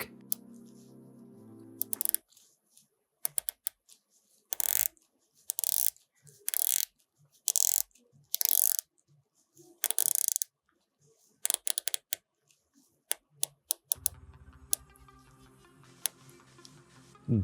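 Slim recessed ceramic bezel on a GMT watch being rotated, giving a series of crisp, slightly muted clicks in short bursts, close up and quiet with no talking.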